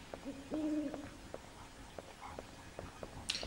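A distant owl hoots once with a wavering two-note call in the video game Dino Crisis, set against quiet ambience and a steady pattern of soft footsteps.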